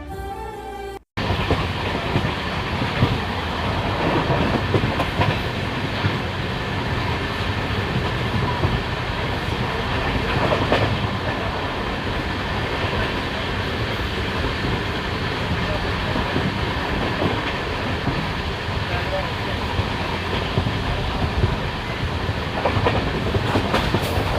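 An express train on the Kasganj–Aishbagh line in India rolls steadily along the tracks near Budaun with a continuous rumble and faint rhythmic clatter of wheels, loud and close throughout.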